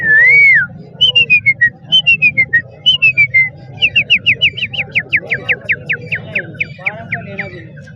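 A man whistles an imitation of a chukar partridge call at a bird market, first one long warbling note, then a quick rhythmic run of many short rising chirps, loud and close over low crowd murmur.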